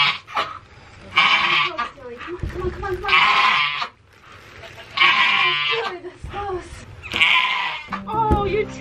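A miniature goat bleats and cries repeatedly while giving birth, with loud, close, strained calls arriving in several drawn-out bursts separated by short pauses.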